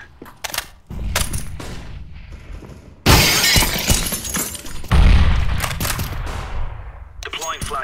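A grenade explodes in CS:GO, one of several loud bursts amid gunfire and crashing noise, with a sharp sudden blast and rumbling decay, and voices calling out between the bangs.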